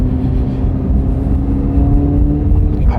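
A Corvette Z06 idles or cruises in touring mode with its exhaust valves closed, giving a loud, close, deep engine rumble that holds steady with a slight swell near the end.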